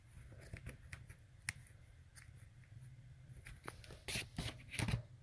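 Scissors snip through pillowcase fabric in a string of quiet, close cuts, irregular at first and then quicker and louder toward the end, with no talking.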